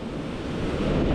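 Sea waves at the beach in Playa del Carmen during rain ahead of a hurricane, a steady surging wash of surf with wind buffeting the microphone.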